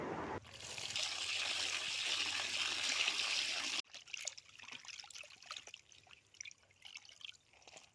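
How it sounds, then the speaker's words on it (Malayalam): Water poured into a bowl while washing fish, a steady close trickle for about four seconds, then quieter drips and splashes of hands moving through the wet fish. "എന്നിട്ട് വെള്ളം ഒഴിച്ച് നല്ലോണം കഴുകിയെടുക്കുകയും ചെയ്തിട്ടുണ്ട്."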